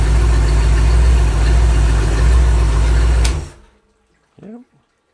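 A rebuilt Ford small-block 302 V8 idling loud and close with a steady rumble, then shut off abruptly, followed by near silence and a brief faint voice.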